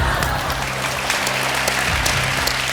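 Studio audience applause on a Hindi television game show, steady dense clapping sustained throughout at moderate loudness, with low music or hum running underneath.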